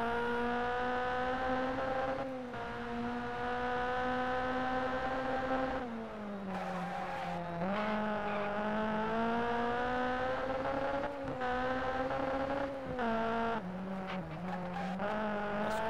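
A Citroën rallycross car races in a video game, its engine whining and shifting pitch steadily as it revs, with brief dips at gear changes and a tire-scrub texture, loud and continuous with no talk.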